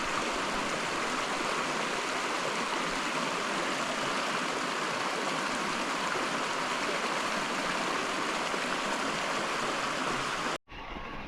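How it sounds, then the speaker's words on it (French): A small mountain torrent in the Pyrenees rushes steadily, a constant close wash of water that cuts off abruptly near the end. "Le petit torrent."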